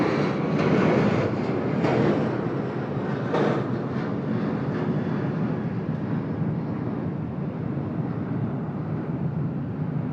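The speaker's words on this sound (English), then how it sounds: "This long takeoff roll here from Air India." Air India airliner on its takeoff roll at Sydney Airport: a loud, broad jet engine roar that holds steady and then slowly fades as the aircraft moves off, heard from the airport perimeter with no talk.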